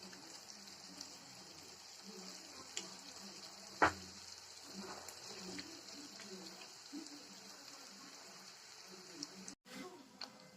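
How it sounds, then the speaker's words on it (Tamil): Small moong dal bonda balls fry gently in hot oil over a low flame, making a faint, steady hiss and sizzle with occasional soft pops, and a voice talks quietly over it. "அடுப்பை நிதானமாக வச்சுக்கலாம் நல்லா பொரியட்டும்"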